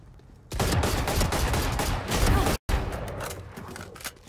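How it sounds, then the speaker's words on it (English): A swarm grenade goes off in a video game firefight: after a brief lull, a loud, rapid crackle of many small bursts rattles on for about two seconds, cuts out briefly, then trails off into scattered pops. "Swarm grenade out."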